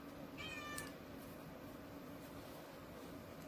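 A cat gives one clear meow near the start, close and fairly loud, followed by a low steady background hum with no other sounds.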